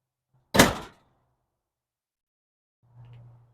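Engine access hatch on a 2024 Newmar Essex 4521 diesel pusher being opened: one sharp loud thunk or latch clack, then after a pause a fainter, low muffled knock.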